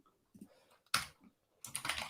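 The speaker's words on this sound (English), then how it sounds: "So you see that wasn't me typing." Someone else types on a computer keyboard during a Python coding interview session, with a few soft isolated keystrokes followed by a close, loud flurry of rapid clicking, no voices.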